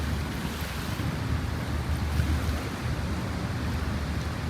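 Sea waves washing in close by, a continuous rumbling surf with gusting wind buffeting the microphone, steady and fairly loud, with no one talking.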